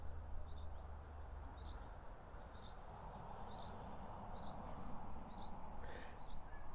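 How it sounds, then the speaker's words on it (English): Small birds calling outdoors at a Scottish castle setting, a short chirp repeated roughly every second in a steady series, fairly distant over a constant wind or ambient hiss. "Can you hear the birds?"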